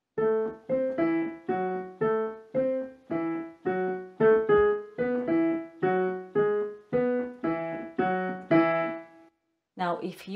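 A piano repeats a four-note salsa montuno pattern in bright, evenly spaced chords with a syncopated rhythm, played alone and close, ending with a brief pause.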